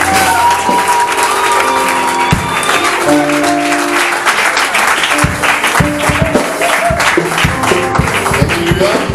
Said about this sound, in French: Est-ce qu'on peut bien acclamer ce groupe?